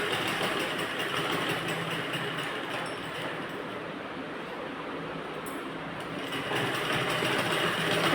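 A sewing machine stitches a single line on a blouse, running fast and continuously at close range with a dense, even mechanical whirr throughout.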